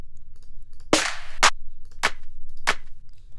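Four sharp, bright clap hits spaced unevenly over a faint low hum, the first one longer with a sustained tail.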